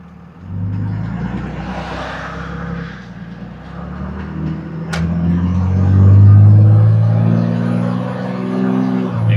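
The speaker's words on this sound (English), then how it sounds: "hear that turbo real good." A Dodge Ram 3500 diesel pickup with a turbo and aftermarket intake, its engine rumbling low and heavy close by, rising in a rev with a faint whistle of turbo spool layered over the deep drone.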